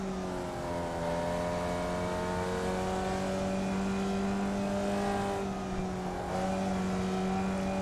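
A Formula Vee race car drives on a track, its engine droning steadily up close with rising and falling pitch as it runs down a straight and eases off into braking.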